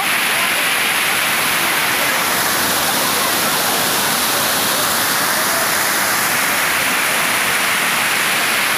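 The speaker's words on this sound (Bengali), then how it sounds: "অদ্ভুত জলের স্রোত, মনে হচ্ছে পা হড়কে পড়ে যাব।" Strong water current rushing over Bhushi Dam in Lonavala, Maharashtra, a loud, continuous broadband roar filling the whole clip at close range with no pauses.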